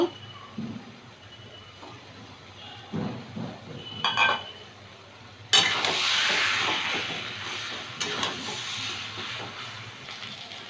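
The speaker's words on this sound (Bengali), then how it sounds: "কচু শাকটা খুন্তি দিয়ে ভালো করে ঘেটে দিলাম" Taro leaves being stirred with a metal spatula in a pan while they cook with shrimp, with scraping and clinks, then a loud steady sizzle and hiss from about halfway through.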